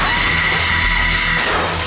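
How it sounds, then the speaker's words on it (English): Glass shatters in a scene from the horror film Halloween: Resurrection, a dense continuous crash and tinkle of breaking glass lasting under two seconds, loud and up close over a low steady rumble. "Why'd that glass break?"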